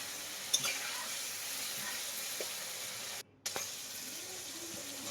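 Spice masala with green chilli frying in oil for a Bengali pabda fish and brinjal curry: a steady close sizzle with occasional clinks and stirring, briefly cut off before resuming.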